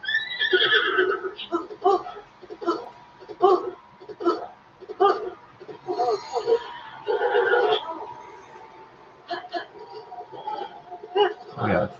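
A horse in The Legend of Zelda: Breath of the Wild gives repeated neighs and whinnies, alternating with short snorts and fragments of hummed voice, moderately loud across the stretch with brief pauses.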